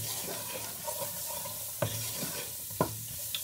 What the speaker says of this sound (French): Et on va remuer ça